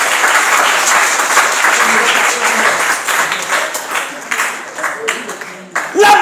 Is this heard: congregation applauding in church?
yes